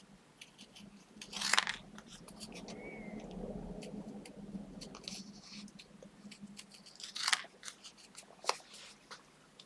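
Craft scissors snip around the edge of a paper card in a few sharp, close cuts spread over the stretch, with soft rustling and handling of the paper between them.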